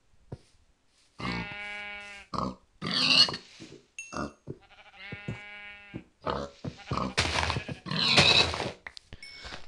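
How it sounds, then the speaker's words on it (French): Minecraft pigs grunt in a series of short, loud, close snorts, one after another with brief gaps, over quiet game ambience. "Il y a des cochons."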